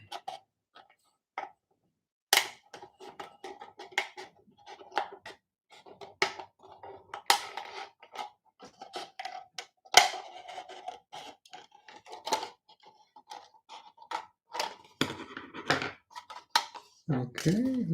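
A craft knife trims a paper craft piece, giving small scratchy cuts and taps, close and fairly quiet, with a person speaking intermittently over the work.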